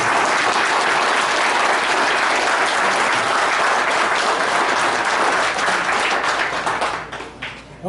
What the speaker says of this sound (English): Let's give another warm round of applause to the entire Smith family for this.